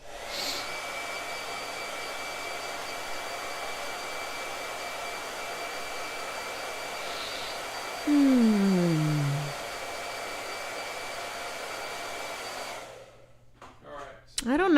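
A handheld hair dryer blows steadily at close range with a constant whooshing roar, briefly shifting pitch midway, then cuts off near the end, leaving a few faint rustles.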